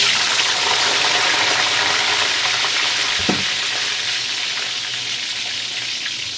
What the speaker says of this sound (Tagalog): ilalagay natin yung potato with carrots